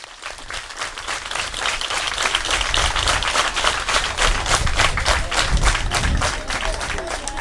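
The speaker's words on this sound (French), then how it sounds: "Applaudissez-le." Audience applause for a guest introduced at a school donation ceremony in a Senegalese village, steady dense clapping from many hands sustained throughout, fairly close and loud with no talk over it.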